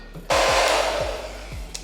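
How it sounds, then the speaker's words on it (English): A beat-up blow dryer with a hose attachment switches on and runs with a loud, steady whooshing roar for over a second, close by, with no talk. "take my blow dryer"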